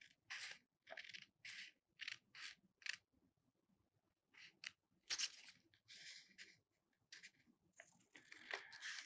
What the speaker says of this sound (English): Now we will take the scissor and cut these lines